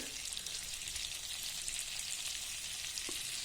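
Flour (maida), about a spoonful, roasting in a hot pan for a breakfast dish, giving a steady, even sizzling hiss that stays at one level throughout, with one faint tap near the end.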